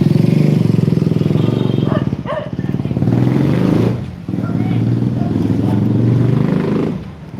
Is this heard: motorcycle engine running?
yes